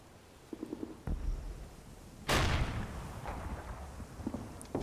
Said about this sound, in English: So that Sherman's firing at something.